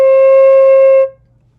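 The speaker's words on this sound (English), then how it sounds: "If you play C correctly," A flute sounds a low C as one clean, sustained tone for about a second, then stops cleanly, close and loud with nothing else playing.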